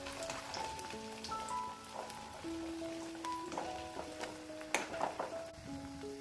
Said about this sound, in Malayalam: അതിന് ശേഷം ഇങ്ങനെ ഓരോന്നായി വറുത്ത് കോരുക.